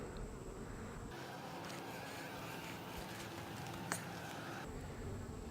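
Honeybees buzz in a small swarm colony's hive as frames are inspected, a steady, even insect hum holding throughout with a brief clack partway.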